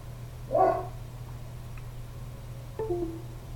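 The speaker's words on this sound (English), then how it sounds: "My dog is going crazy today, and I'm sorry about that." A dog indoors barks twice, a short bark followed a couple of seconds later by a softer one, both fairly quiet over a steady low electrical hum.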